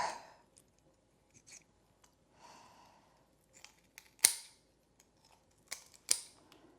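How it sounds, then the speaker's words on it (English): Several sharp, crisp snips of kitchen scissors cutting through tough smoked chicken, spaced irregularly with quiet gaps between, close and clear. "for the really tough ones, I'm going to use these scissors."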